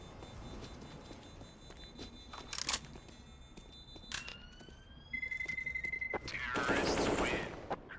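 MAC-10 submachine gunfire in a professional Counter-Strike match: short, sharp automatic bursts ring out amid other in-game sounds, with a louder, denser burst of fire near the end.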